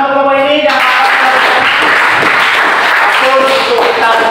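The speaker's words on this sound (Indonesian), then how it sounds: "Tepuk tangan untuk kelompok ini." Audience applause for a group that has just presented, a dense burst of hand clapping filling most of the moment, framed by a voice speaking briefly before and after.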